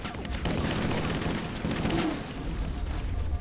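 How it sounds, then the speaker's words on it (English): Gunfire in the Halo: Combat Evolved video game: sustained rapid bursts of automatic fire mixed with booming impacts, dense and continuous, fairly loud with no talk. "I'm being shot from my rear."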